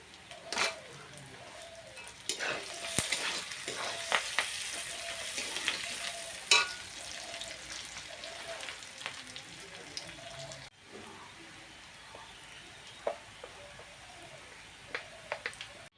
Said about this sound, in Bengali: পোলাও চালটা বেশ কিছুক্ষণ ভেজে নিয়েছি